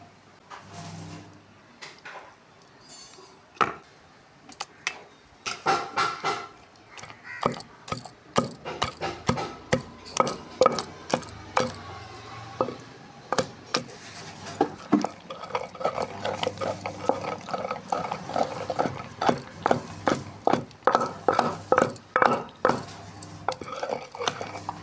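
Gongura leaves are stirred in a pan while cooking pachadi, giving a series of scraping, clinking strokes of a spoon against metal that grow steadier and more rhythmic, loud and close with no talk.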